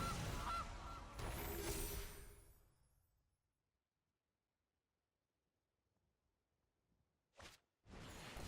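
The Gilded Goose card in the Magic: The Gathering video game lets out a loud goose honk with a swoosh for about two seconds, then near silence, then a couple of short bursts of sound near the end.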